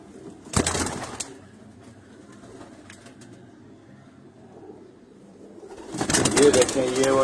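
Green pigeons at a pigeon breeder's loft cooing softly at moderate distance, with louder bursts of bird noise and fluttering at the start and near the end over a low background murmur.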